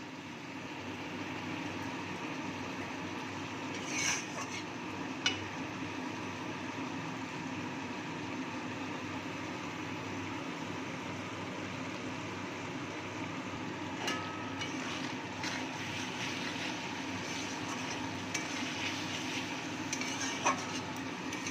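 Eggplant frying with spices over low heat makes a soft, continuous sizzle, broken by occasional scraping stirs and light clinks of a spoon against the pan.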